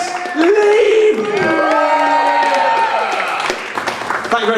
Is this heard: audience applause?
yes